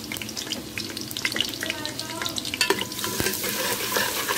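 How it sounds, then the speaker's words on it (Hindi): Garlic sautéing in hot oil in a pan for beef nihari, a steady close crackling sizzle with stirring scrapes running throughout, no voices. "हमारा जो है ऑयल वो गर्म हो गया है, और हमने इसमें गार्लिक डाल दिया है, हमने लहसुन डाल दिया है"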